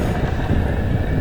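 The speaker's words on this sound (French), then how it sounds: "Alors certes il y a du vent, mais au moins il n'y a pas de turbulence" Steady, loud wind roars across the microphone during a paragliding flight over forest in the Chartreuse mountains, a dense low rumble with no talking.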